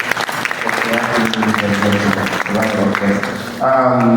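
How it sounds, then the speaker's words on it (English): Audience applause at a talk event comes as a loud spread of clapping mixed with voices and tonal sound, rising again briefly near the end. "please, a round of applause"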